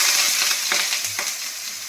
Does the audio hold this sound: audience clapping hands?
no